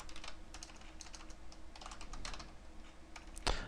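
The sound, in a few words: typing on a computer keyboard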